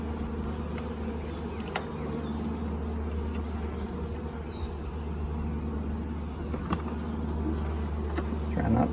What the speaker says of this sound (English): These bees are nice and calm.